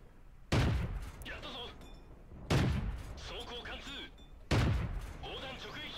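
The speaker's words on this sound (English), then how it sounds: "Alright, so 3 solid shots into that guy." Three heavy tank gun shots in World of Tanks, each a loud boom about two seconds apart, followed by rumbling reverberation and debris-like crackle. A game voice is faintly heard between them.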